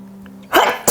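A single sharp human sneeze bursts out near the end after a brief low hum, close and loud, with a small second catch of breath right after.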